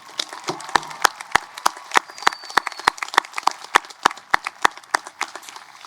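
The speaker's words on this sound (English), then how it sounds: "One more round of applause for Ira." Audience applause at a high school graduation ceremony, heard as a steady run of sharp, fairly close claps with an uneven rhythm that carries on for several seconds without talk.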